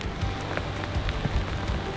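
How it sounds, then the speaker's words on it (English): Heavy rain pours steadily onto ground and water around a newly dug pond, a dense, even hiss with scattered louder drops close to the microphone, and no voices. "Oh man, it's pouring."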